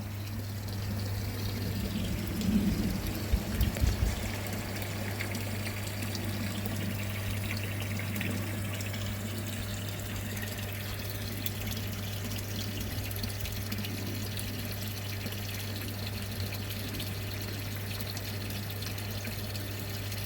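A water pump runs while rinsing a home-made bead filter, giving a steady flowing, pouring wash of water with a constant low hum underneath and a few brief louder splashes early on.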